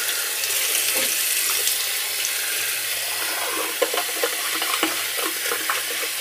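A shaving brush is rinsed under a running tap, giving a steady hiss of flowing water with intermittent splashes and spatters as the bristles pass through the stream.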